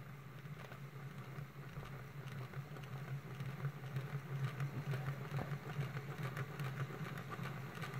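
A model autotracteur rail tractor runs at full power, its small motor producing a steady, low buzzing hum with a faint rattle, even in level and moderately quiet throughout.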